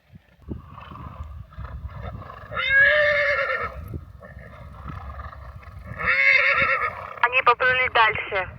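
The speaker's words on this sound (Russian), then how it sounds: "лошадки на водопое идут" Horses heading to a riverside watering place give several loud whinnies, one around the middle and another burst near the end with quick stuttering neighs, over a soft rustling outdoor background.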